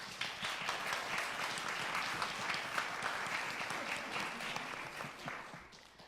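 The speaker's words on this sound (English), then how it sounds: "I just want to give you a round of applause" Steady, moderately distant audience applause at a screening and panel discussion, a dense wash of many hands clapping that continues for several seconds and then tapers slightly at the end.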